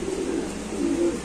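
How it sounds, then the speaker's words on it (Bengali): Pigeons coo softly and continuously at a pigeon seller's, a low steady warbling murmur close by with no talk. "কবুতর দেখেন, কোয়ালিটি দেখেন কবুতরের"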